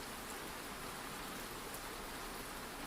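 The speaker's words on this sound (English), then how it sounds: "the rain still falling in thin lines against the fogged windows" Steady rain patters against fogged windows on a damp morning in Victorian London, a continuous soft hiss that holds at a low, even level throughout with no voices.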